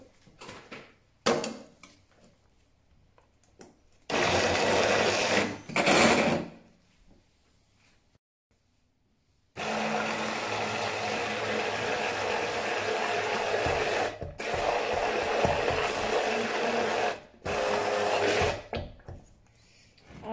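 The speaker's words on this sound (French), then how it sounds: "il ne reste plus qu'à mixer le tout" A blender whirs through several runs of Caesar salad dressing with short pauses between them, the longest burst sounding loud and steady.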